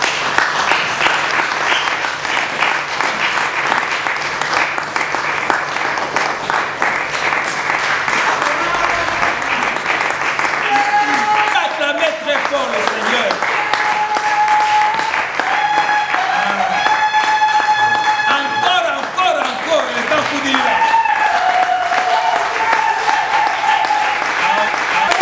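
Congregation applauding at a baptism of two women, sustained dense clapping from a crowd filling the room throughout, with voices and cheering calls rising over it partway through.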